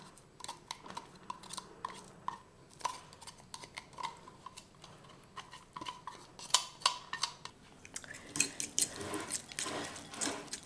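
Quiche batter with onions being mixed in a bowl: repeated light clinks and taps of a utensil against the dish, steady and close, with wetter stirring sounds building toward the end.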